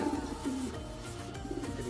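Soft, low pigeon coos repeat a few times close by over faint background noise.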